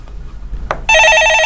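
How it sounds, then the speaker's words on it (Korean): A telephone rings loudly with an incoming call in a Korean stock-market call-in broadcast, a rapid trilling electronic ring that starts abruptly after a brief knock and continues alone. "예, 전화 받아보겠습니다."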